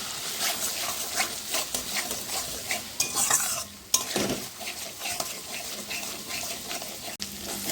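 Ground cashew and poppy seed paste stirred into sizzling spices in a pan for a Bengali doi potol, with a spoon scraping and clinking against the pot over a steady fry and brief bursts of louder sizzle.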